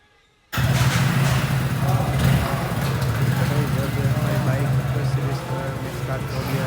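A motorcycle at a service centre, freshly washed, starts up with an abrupt catch and settles into a steady, close, low idle that runs throughout while voices talk nearby.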